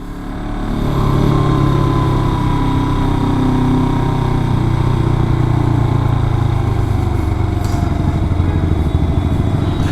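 A Himalayan 400 twin-cylinder motorcycle engine idles close up, a steady loud rumbling throb that swells in during the first second and holds evenly for the rest.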